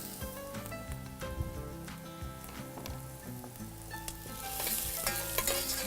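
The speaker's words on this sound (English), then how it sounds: "So as the mustard seeds splutters, we put the garlic. In goes a little ginger." Garlic and ginger fry in hot oil as mustard seeds splutter for a tomato rice tadka, giving a dense, steady sizzle with scattered sharp pops and crackles close by, growing brighter and louder toward the end.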